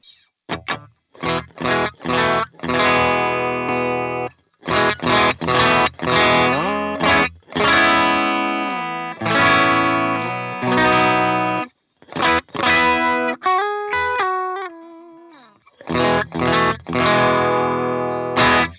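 An electric guitar through a Blammo TNYDUMBLE Dumble-style overdrive pedal's clean side plays bright, slightly driven chords and single-note runs with short pauses between phrases, fairly loud and alone.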